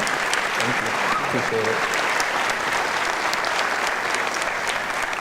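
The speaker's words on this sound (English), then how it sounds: "Give yourself another round of applause." Steady, dense applause from a large audience at a university commencement ceremony fills the whole stretch at even loudness, with a brief spoken voice near the start.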